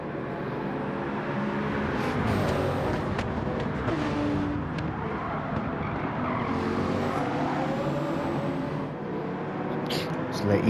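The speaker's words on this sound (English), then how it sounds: "The Easy Rider passed." Opponent race car in a racing video game engine roaring as it passes, a sustained loud engine drone with slight pitch shifts, heard beneath the player's own car noise with no speech.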